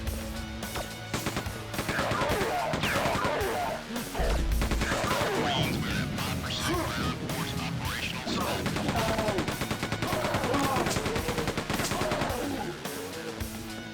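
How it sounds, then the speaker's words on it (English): Enemy gunfire in Quake II crackles almost nonstop in rapid bursts and machine-gun rattles, loud and busy, layered over game noise. "Yeah, they're still shooting at me from up there."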